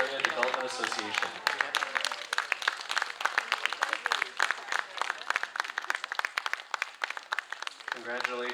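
Audience applause for the winners of a Macao English poetry writing and recital contest, dense, close clapping rising and holding steady, with a voice speaking over it at the start and end.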